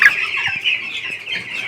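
Two-week-old poultry chicks cheep in a steady stream of high, thin peeps during weighing and vaccination, close and moderately loud, with faint handling noises underneath.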